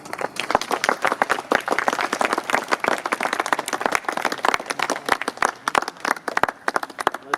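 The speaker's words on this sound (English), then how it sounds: "Let's give him a round of applause" A crowd at a Veterans Celebration Day gathering at a Staten Island church applauds an honoree, with dense, steady clapping from many hands sustained for several seconds at close range.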